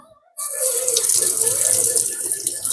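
A kitchen tap runs steadily into a sink while crab is rinsed for a curry, a loud, continuous splashing gush that starts abruptly and carries on without pause, with no voices over it.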